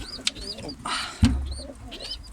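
Breeding pigeons in a loft give soft, low coos, with a few brief chirps and rustles around them, all faint and close in a quiet indoor space.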